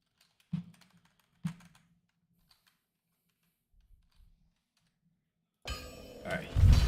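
Computer keyboard keys tapped a few times during Dark Souls 2 play, two sharp clicks early followed by faint scattered taps, then a louder burst of game sound at the end.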